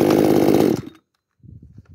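A Maruyama 310 chainsaw engine running loud and close, its buzzing roar cutting off abruptly into silence before a faint, brief rattle follows.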